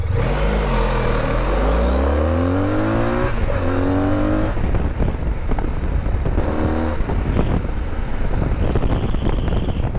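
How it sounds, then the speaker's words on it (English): Two electric bikes, a 2023 BMW CE 04 scooter and another motorcycle, accelerate hard from 0 to 60 with a rising whine and a gearshift-like step, while strong wind rush stays loud throughout. "This is a 0 to 60 of these two bikes."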